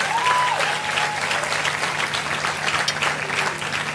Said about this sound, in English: I want you all to give a resounding applause for MasterCard